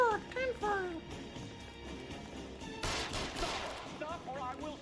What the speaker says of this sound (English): Oh my god, gunfire!